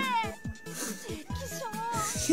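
Cat meowing in the video game Mama ni Game Kakusareta 2, a run of several plaintive, wavering meows in quick succession, close and clear.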